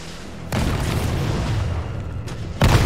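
Rocket launcher blasts in a video game with Jill, two heavy booming bursts, one in mid-clip with a rumbling tail and a second sharp, loud blast at the end.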